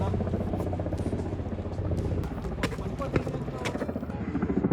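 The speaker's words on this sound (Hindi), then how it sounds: "वो हेलीकॉप्टर क्या है बे?" A helicopter flies low overhead during a hilltop trek above Vizag city, its steady rotor chop loud and continuous, with voices talking over it.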